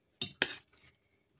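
A few clinks of a utensil scraping and knocking against a pan while stirring azu with tomato paste, two sharper hits then a softer scrape, faint and quiet.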